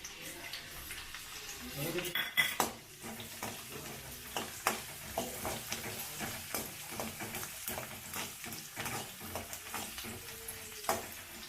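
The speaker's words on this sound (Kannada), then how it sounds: "ಸ್ವಲ್ಪ ಕೆಂಪಾಗೋವರೆಗೂ ಈ ಥರ ಬಾಡಿಸ್ಕೋಬೇಕು ಬೆಳ್ಳುಳ್ಳಿನ" Garlic frying in oil with lentils, cumin and mustard seeds in a pan, stirred with a spatula: a continuous close sizzle broken by sharp, irregular scraping clicks and taps throughout.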